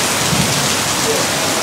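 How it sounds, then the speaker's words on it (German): Thunderstorm on Java, Indonesia, with heavy rain pouring in a dense, steady hiss and faint low thunder rumbling underneath, continuous and loud throughout. "Es donnert und gewittert"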